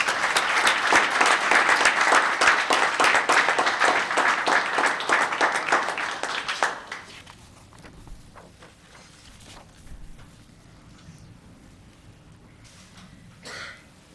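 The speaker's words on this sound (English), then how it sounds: "Let's give him another round of applause." Audience at a town council meeting in Los Gatos gives a long round of steady applause that stays loud and even for several seconds, then cuts off, leaving faint room noise with scattered small knocks.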